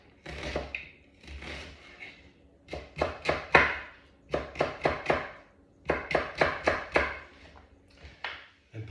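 A knife slices an onion finely on a board for kachumbari onion salad, in close, crisp chopping bursts of rapid taps separated by short pauses, with no talking.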